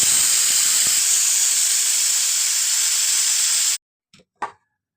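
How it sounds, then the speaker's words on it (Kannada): A pressure cooker of plain rice on a gas stove vents a loud, continuous steam hiss that cuts off abruptly, followed by a couple of small clicks in near silence. "ಕುಕ್ಕರ್ ಮುಚ್ಚಿ 2 ಸಿಟಿ ಕುದಿಸ್ಕೊಂಡ್ರೆ ಪ್ಲೇನ್ ಅನ್ನ ರೆಡಿ ಆಗ್ತೈತೆ ರೀ"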